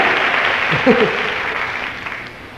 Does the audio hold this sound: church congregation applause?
yes